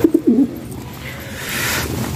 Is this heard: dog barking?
no